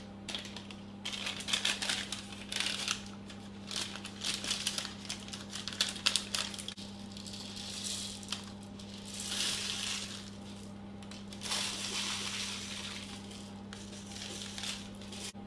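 Dry baking rice is poured onto baking parchment lining a pastry case for a strawberry tart, making bursts of close, crisp rattling and crinkling over a steady low background hum.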